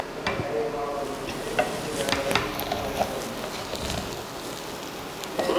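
A spoon scrapes and stirs through veg biryani in a pot, with soft irregular scraping and faint sizzling at moderate closeness, quiet overall with no talk.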